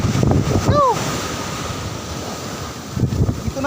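Strong ocean waves surge at Patar Beach in Bolinao, Pangasinan, a steady close roar of surf mixed with wind buffeting, broken near the start by a short rising-and-falling voice-like whoop.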